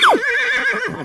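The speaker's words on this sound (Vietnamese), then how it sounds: "con ngựa" A horse gives a single loud, close neigh: a sharp descending squeal opening into a quavering whinny that lasts about a second, with nothing else heard.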